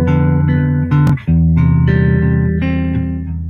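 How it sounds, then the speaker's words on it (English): A guitar, likely played in open C tuning, sounds a dominant seventh chord with the seventh in the bass. It rings clearly, then resolves to the first inversion of the one chord, with sustained, close tones and no talking. "a dominant 7-5 chord with the 7 on the bottom resolving to the first inversion of the 1 chord"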